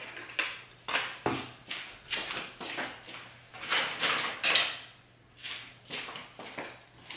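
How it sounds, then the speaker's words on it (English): Dishes clink and clatter in a steady run of sharp knocks and scrapes while cream cheese icing is made in a home kitchen, close and fairly loud, with no talking. "Actually, let me just use a different dish, make some more dirty dishes."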